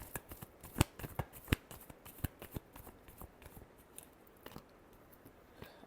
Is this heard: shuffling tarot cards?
yes